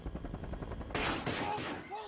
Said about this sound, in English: Shots can be heard close by as these terrified pupils sit in their classroom